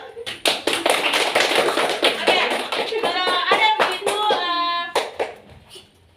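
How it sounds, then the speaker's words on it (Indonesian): Children in a grade 5 classroom clap their hands in a loud burst of rapid, uneven claps, with a voice and teacher's speech mixed in near the end. "Tepuk tangan dulu."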